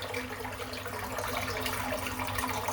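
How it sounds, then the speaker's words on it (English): Water running steadily from a sink tap while hands are wetted before a shave, a close, continuous hissing splash with no talk. "Just wet my hands."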